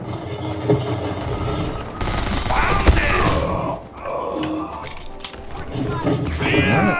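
Pistols fire in rapid bursts in the video game Ballistic Overkill, sharp shots and fusillades mixed with game effects and grunts, while players talk over the action.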